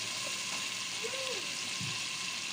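Ginger garlic paste frying with beef karahi and tomatoes in a pan gives a steady, close, continuous sizzle, with a brief faint voice passing underneath.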